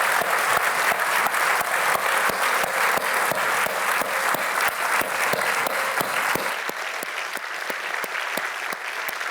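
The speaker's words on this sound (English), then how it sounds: "please join me in a warm round of applause to thank our speaker," An audience at a leadership forum gives a sustained round of applause for journalist Maria Ressa, dense, even clapping from a sizable crowd, thinning slightly toward the end, with no talk over it.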